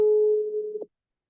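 A telephone line gives a busy signal during a call: a single steady, low electronic beep lasting under a second, then it cuts off into silence.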